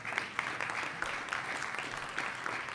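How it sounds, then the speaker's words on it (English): A town hall audience claps continuously for the Queens borough president, a dense, even patter of many hands at moderate distance, with no voices standing out. "Let's give our borough president a round of applause"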